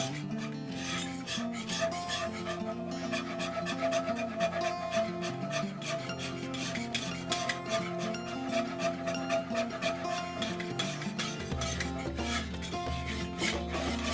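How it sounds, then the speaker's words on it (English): A spoon scrapes steadily around a pot of Cajun gumbo roux, a continuous rasping, rubbing stir that carries on close and unbroken with no talk. "You gotta keep stirring till you get that really pretty, nice brown roux."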